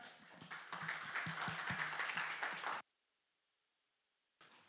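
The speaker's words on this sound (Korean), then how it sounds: "큰 박수 부탁드립니다" Steady applause from a forum audience, many hands clapping for about three seconds, then it stops abruptly into near silence before a faint sound returns.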